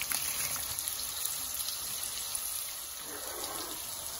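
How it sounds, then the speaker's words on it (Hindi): Washed rice poured into a pot of water for chicken achari biryani gives a steady, close watery rush and gush with faint splashing; no talking. "चावल सारे मैंने इसके अंदर डाल दिए,"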